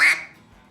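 A single short, nasal quack from a duck call, loud and close, with a sharp start that quickly fades.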